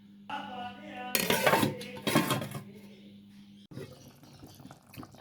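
A lid clanks twice onto a cooking pot on a stove, two bright metallic clatters a second apart over a steady low hum of the burner, fairly close and fairly quiet.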